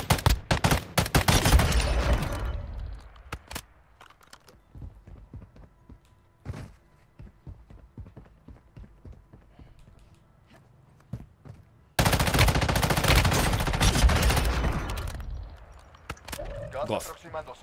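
Sniper and other gunfire in COD Warzone Mobile crack in loud bursts at the start and again later, with sparse quieter shots and footsteps between them and someone talking throughout.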